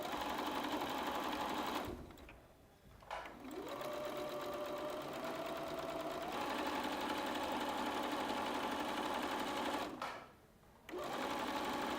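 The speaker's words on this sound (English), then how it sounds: "we're going to go back and forward at the start and finish of our sewing." A sewing machine stitches in close, fast rhythmic runs with two short pauses between passes, the motor pitch shifting slightly as it sews back and forth.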